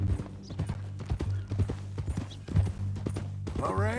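Horse hooves clip-clopping in Red Dead Redemption 2, a steady run of close hoofbeats under talking voices, with a brief whinny near the end.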